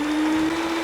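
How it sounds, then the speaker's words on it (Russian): Electric mixer whisking cake batter for a skillet-baked Napoleon-style cake, a steady close motor whine with a sustained hum throughout, no voices. "Немного взобьем"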